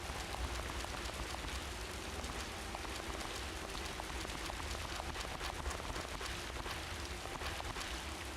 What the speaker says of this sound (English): Man, it is raining as hell out here.